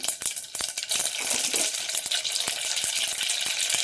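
Mustard seeds sizzle and pop in hot cooking oil while rice rava upma is being made, giving a dense, bright frying hiss crowded with rapid, irregular crackles like tiny tapping seeds, close and steady throughout.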